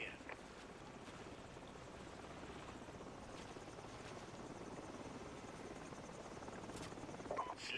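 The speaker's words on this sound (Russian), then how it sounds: "Осторожно, вертолет!" A helicopter in the video game Call of Duty 4: Modern Warfare flies overhead as a steady, loud broadband rotor roar that fills the whole stretch, with faint voices briefly audible near the end.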